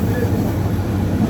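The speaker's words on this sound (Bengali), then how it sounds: "কক্সবাজারের ট্রেনে" A passenger train bound from Dhaka to Cox's Bazar rumbles steadily on the rails, a loud continuous low roar heard from inside the carriage.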